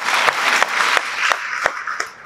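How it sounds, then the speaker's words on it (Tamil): Audience applause bursts out at a talk, a dense wash of hand claps with a few sharper individual claps standing out, loud and close, with no voices over it. "உங்களுக்கு ஒரு பெரிய கைத்தட்டல் கொடுக்கலாம்"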